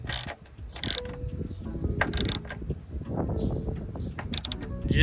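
A 13mm socket ratchet clicks as a bolt is run in hand tight on a Scat Pack engine bay part, giving soft, quick ratcheting bursts with small metallic taps, close and fairly quiet.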